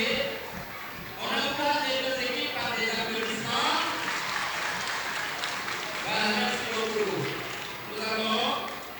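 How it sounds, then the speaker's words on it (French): Crowd applause for both teams at a school sports final, steady clapping mixed with shouting and voices throughout, swelling and fading in waves. "On encourage les deux équipes par des applaudissements."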